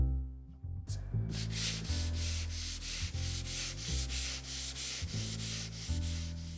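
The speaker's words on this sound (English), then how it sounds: "this is a 220 sanding, and I do that in between each coat to flatten it out" A black walnut tabletop finish is hand-sanded with 220 grit between coats, giving repeated rhythmic rubbing strokes, fairly quiet and close, with no talking.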